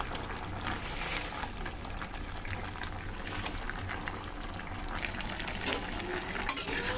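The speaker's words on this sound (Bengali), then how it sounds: "শাকগুলো দিয়ে তো ভালো করে একটু নেড়ে চেড়ে নিলাম।" Malabar spinach leaves being stirred into a tilapia curry frying in a pan, a steady close sizzle with soft scraping stir strokes throughout, no talking.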